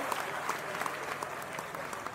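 Audience at a Hindi hasya kavi sammelan comedy poetry event breaking into sustained applause, a steady wash of many hands clapping heard from a distance, fairly soft and even throughout.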